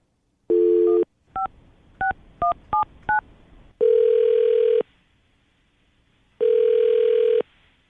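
A telephone call placed during a radio show: a tone, then a quick run of six touch-tone dialing beeps, followed by two long, loud ringback tones separated by a pause.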